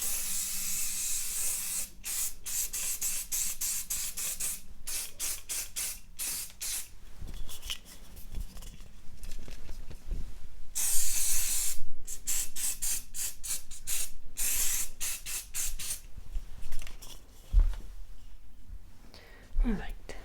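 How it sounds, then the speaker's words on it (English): Hairspray hisses onto hair during a slick-back updo: a series of short and longer aerosol bursts, close and crisp, separated by quiet pauses and soft handling sounds. "I'm just going to pop the hairspray in now"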